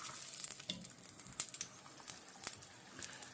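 Hamburger tacos fry lightly in oil with a soft, steady sizzle and faint crackles and pops, quiet and close, with no talking over it.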